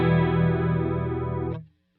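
A Truetone (Visual Sound) V3 H20 Liquid Chorus and Echo pedal on a guitar, intensity switch set to the left, gives a sustained chorused chord with a gentle sweeping shimmer, held loud for about a second and a half before cutting off abruptly.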